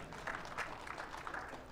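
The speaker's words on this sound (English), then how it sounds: "somebody start clapping so y'all have to" Audience applause at a US Soccer presidential candidate forum, a moderate spread of clapping from a crowd, continuous and fairly even, heard from a distance in a hall.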